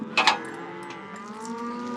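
A cow on a cattle farm gives a short, close moo with a rough, nasal start that trails off into a sustained low drone, with no talk over it.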